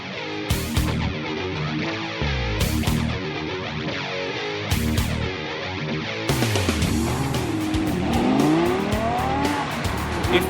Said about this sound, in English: This week we take a look at the Audi R8, but no ordinary R8.